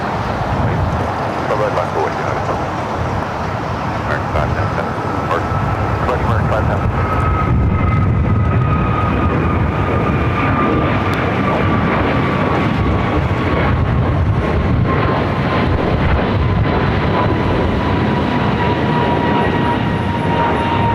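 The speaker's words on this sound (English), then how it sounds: "Next flight heading to La Jolla, A321neo with American flight 510." An Airbus A321neo airliner at Los Angeles LAX airport produces a loud, steady jet roar that fills the whole stretch, with a thin whine that slowly falls in pitch as the aircraft moves.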